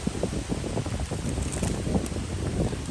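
Steady wind gusting outdoors during heavy rain while mushrooms are gathered, a continuous broadband rush with low buffeting rumble against the microphone and no speech.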